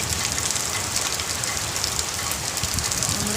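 Heavy morning rain pours down steadily, a dense, even hiss of drops spread close and far, with no voices.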